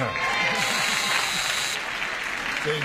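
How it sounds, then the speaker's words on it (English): Studio audience applauding on a game show, a steady mid-level patter of clapping with a voice speaking over the start. "weirdos are applauding your answer"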